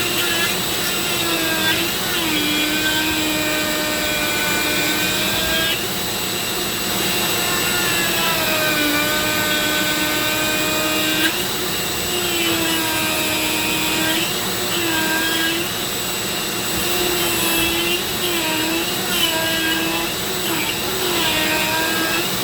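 A Dremel rotary tool grinds into a pumpkin with a sustained high whine whose pitch dips and rises as the bit bites and eases off, close and loud, and a voice is heard faintly under it.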